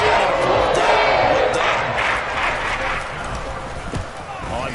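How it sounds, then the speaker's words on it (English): Stadium crowd at a football game cheering and applauding the defense after a fourth-down stop, a loud broad roar that gradually eases, with a commentator talking over it. "That's some applause for the defense there."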